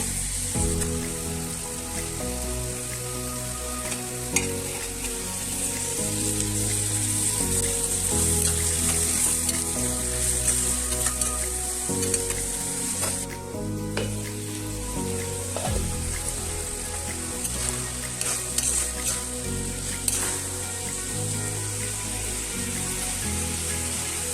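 Two green chillies fry in a pan of hot oil, giving a loud, continuous sizzle and crackle close by, with occasional stirring over the steady frying noise.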